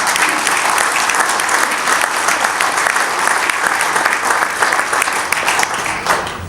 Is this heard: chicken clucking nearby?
no